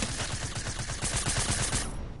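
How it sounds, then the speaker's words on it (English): Gunfire from a Fortnite match during a Floor is Lava round, a rapid rattling burst of shots that runs steadily for about two seconds before stopping. "He's literally shooting at me."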